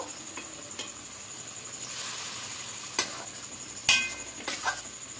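Water poured into a pan of spiced yogurt chicken leg pieces sets off a steady sizzle and hiss, with a few sharper splashes and spatters near the end, close and alone.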